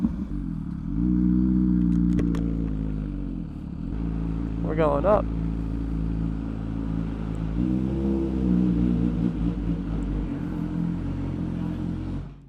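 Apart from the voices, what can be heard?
MV Agusta Superveloce motorcycle engine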